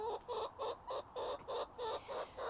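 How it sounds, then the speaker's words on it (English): Backyard chickens on an allotment cluck in a steady run of about nine short, rhythmic bursts, close by and fairly quiet, with no voices. "So that's our chickens so far"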